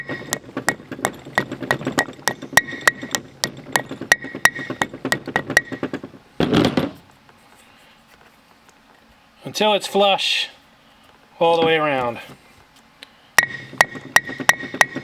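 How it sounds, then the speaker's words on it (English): A heavy hammer taps rapidly and evenly, lightly seating a seal during a power disc brake upgrade on a 1967 Pontiac Catalina, pausing while someone speaks briefly, then the tapping resumes. "just tap it down with a hammer"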